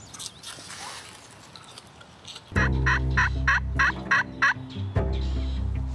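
Wild turkeys gobble loudly in a rapid, rattling burst, followed by a second shorter gobble, after a quiet stretch of outdoor ambience.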